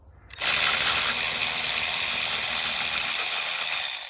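A socket wrench ratchet with a deep socket loosens an alternator bolt on a Buick LeSabre, giving a close, steady, continuous clicking rasp that runs for several seconds without talk.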